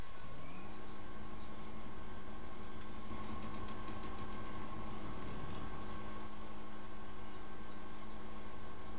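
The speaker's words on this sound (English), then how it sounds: "Engine is started." Truck engine in Spintires fires up and settles into a steady droning idle with a low rumbling hum, loud and close, continuing evenly throughout.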